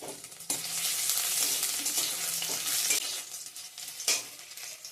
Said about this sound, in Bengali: এখন একটু পাঁচ ফোড়ন দিয়ে দেবো পাঁচ ফোড়ন দিলাম এখন একটু থেতো করা আদা দিয়ে দিলাম